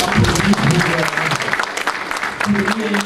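At a Canadian campaign launch for the Congolese head of state, a crowd applauds steadily with dense clapping while voices talk over it near the start and end.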